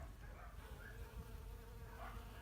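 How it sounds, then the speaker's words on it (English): Honeybees buzz steadily around spring-blooming weeds, a soft continuous hum of many insects close by with no voices over it. "my honeybees are enjoying the blooming, some of the first stuff that's blooming here"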